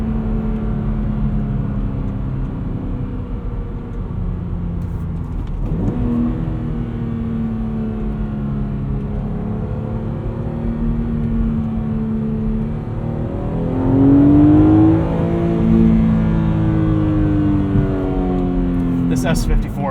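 A 2008 BMW Z4 M Coupe's S54 engine pulls hard in sport mode from inside the cabin, its tone rising through the revs with a strong surge near the end, while someone talks throughout.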